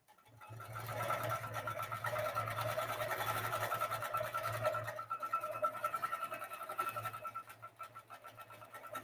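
A sewing machine stitching steadily during free-motion quilting, a continuous close mechanical whir with a rapid needle rhythm that slows and becomes uneven near the end.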